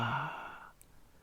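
A single long, audible exhale through the mouth during a guided breathing exercise, close and soft, fading out into quiet.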